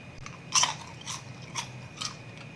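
Crunchy baked caramel popcorn is bitten and chewed up close, with a sharp crisp bite followed by several softer, spaced crunches, fairly faint and with no talking.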